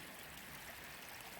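Creek water flowing beside a snowy path, a faint, steady broadband rush and trickle with no voices.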